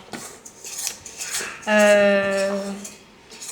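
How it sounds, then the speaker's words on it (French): A spoon clinks and scrapes against a bowl while mixing gluten-free cake batter, then gives a sustained ringing scrape, close and fairly loud. "tu peux prendre la cuillère et mélanger"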